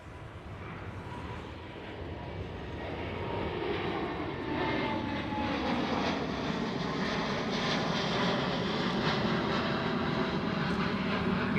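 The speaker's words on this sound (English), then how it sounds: "Meanwhile, another Dreamliner taking off. KLM this time." A KLM Boeing 787 Dreamliner takes off at Amsterdam Schiphol, its engine roar building from moderate to a loud sustained rush with sweeping tonal whine, no voices over it.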